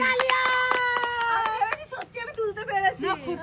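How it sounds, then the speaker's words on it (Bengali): A quick run of hand claps for a girl named Nili at a family money-grabbing game, crisp and rhythmic for a second or two, mixed with lively voices and light laughter that continue after the clapping stops. "আরে নীলির জন্য জোরে হাততালি"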